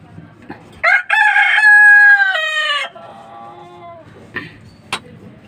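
A rooster crows loudly and close by among clucking chickens at night, one long drawn-out call followed by a fainter trailing crow and scattered short clucks.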